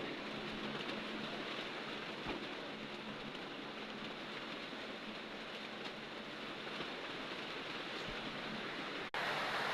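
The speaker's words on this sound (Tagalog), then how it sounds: "Ang lakas talaga ng ulan dito." Heavy storm rain pours down without pause, a thick, even wash of water striking surfaces nearby that stays loud and steady throughout, with no talking.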